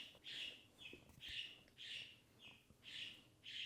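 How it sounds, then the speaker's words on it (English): A pet bird screams in loud, harsh repeated calls, about six shrill bursts in quick succession with short gaps, close to the listener and with no talking. "The bird literally just started screaming."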